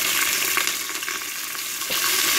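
Sliced shallots and green chillies fry in hot oil for mutton biryani, giving a dense, close sizzle that stays loud and even throughout, with a few faint stirring clicks and no voices.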